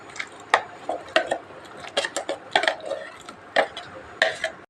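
Repeated spoon scrapes and taps against a bowl as thick, freshly ground spicy chutney is scooped in, a dozen irregular clinks close by, no voices.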